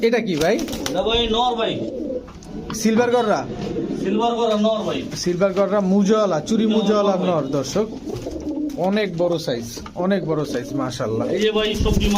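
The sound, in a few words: pigeons cooing at a pigeon market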